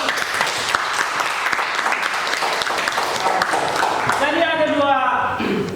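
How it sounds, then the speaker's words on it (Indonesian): A classroom of students applauds in a steady burst of clapping that fills the room, with a voice starting to speak near the end. "beri aplaus"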